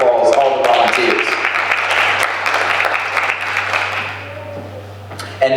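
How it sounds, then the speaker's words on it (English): Pageant audience applauding backstage volunteers in a hall, a broad wash of clapping that starts strong and gradually fades, over a steady low electrical hum. "Let's give them a round of applause, all the volunteers."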